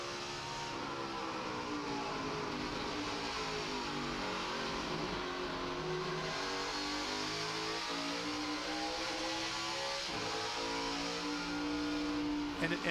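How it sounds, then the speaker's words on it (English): NASCAR Nationwide race car at Watkins Glen during first practice of the 2009 Zippo 200, its engine droning steadily and loudly, with throttle work and gear shifts heard as it approaches a turn, under a commentator talking. "You can hear him inside there, really working the throttle, shifting, working around Justin Marks on the 10"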